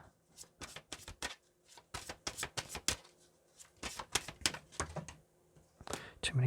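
Tarot cards riffled and shuffled by hand and pulled from the deck, crisp rapid bursts of flapping card noise repeating in close succession, near and fairly loud, with brief pauses between shuffles.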